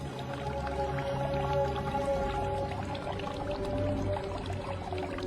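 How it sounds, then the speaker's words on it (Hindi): Water drawn from a village well is poured out onto the ground, a steady liquid splashing and dripping that continues throughout at moderate level, with no voices. "वहाँ पर एक बूढ़ी महिला दिखाई दी जो एक कुएं से पानी निकालकर जमीन पर डाल रही थी।"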